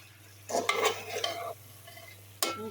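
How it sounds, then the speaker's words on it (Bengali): Dried fish and vegetables being sautéed in a pan, with a burst of stirring and scraping near the start, a quieter sizzle after, and a brief sharp clatter near the end; no talking. "সবজি দিয়ে কষিয়ে নিচ্ছি"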